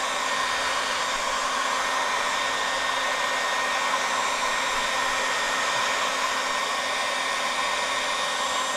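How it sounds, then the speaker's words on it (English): Travel hair dryer blowing steadily and loudly for the whole stretch, a constant airy rush with a faint high whine and no pauses. "And this is a travel hair dryer."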